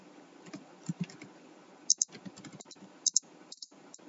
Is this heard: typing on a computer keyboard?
yes